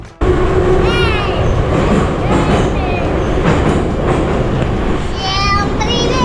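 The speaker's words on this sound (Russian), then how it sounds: "Мы сейчас едем в метро." A metro train rumbles loudly along the tracks with high squeals from the wheels, while people, including a child, talk over the noise.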